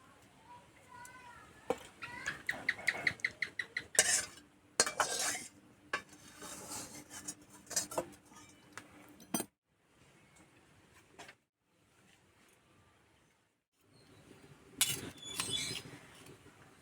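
Cooked bitter gourd rezala is poured out of the pan, with intermittent metal clinks, scrapes and spoon taps against cookware, clustered in bursts separated by quiet stretches.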